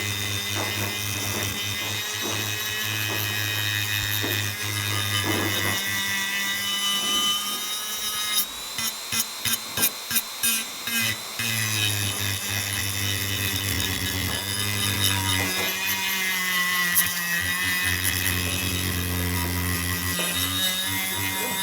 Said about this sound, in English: Go get the air Dremel out.